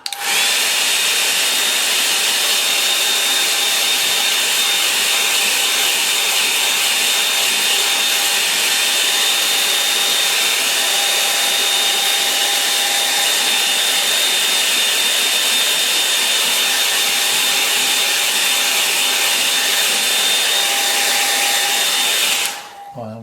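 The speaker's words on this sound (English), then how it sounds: "I'm going to dry that off and just put a little bit of shadow in." A hair dryer blows over a watercolour painting of a woodland scene, a loud, constant whooshing hum with a steady whine that runs unbroken for over twenty seconds before cutting off abruptly at the end.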